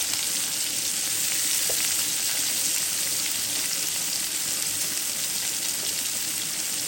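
Onion and fresh spices fry in a pan for a rui fish bhuna, giving off a loud, even sizzling hiss that holds steady from start to finish, with one brief clink partway through.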